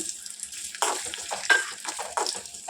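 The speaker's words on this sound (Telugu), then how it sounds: "అల్లం ఇలా సన్నగా కట్ చేసుకొని వేసుకొని ఫ్రై చేసుకోవాలి" Thinly sliced ginger fries in hot oil, with a soft continuous sizzle broken by several louder bursts of crackling and stirring from the pan.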